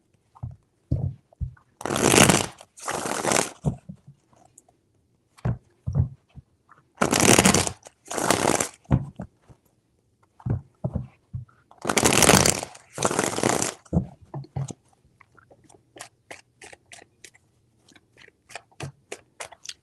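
Tarot cards shuffled in three distinct bursts of riffling, each lasting a second or two with brief taps and pauses between, close and fairly loud, followed by quieter scattered card handling.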